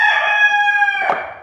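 A loud, close chicken call, most likely a single rooster crow, from a backyard hen yard where the hens are laying eggs. It holds steady for about a second, then fades, with no talking.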